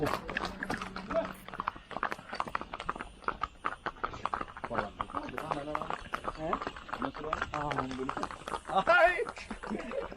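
Horses clip-clop along a trail in Pahalgam, Kashmir, their hoof beats steady and fairly close beneath near-constant talk from people riding or walking nearby.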